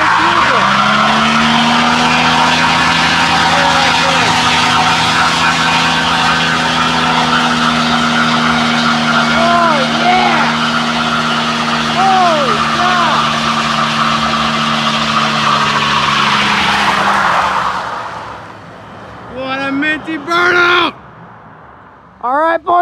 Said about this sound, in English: we're gonna do a burnout!